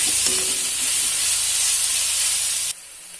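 Crushed garlic, chopped chili and curry leaves frying in hot oil in a pan: a loud, steady, close sizzle with faint stirring underneath that cuts off sharply near the end.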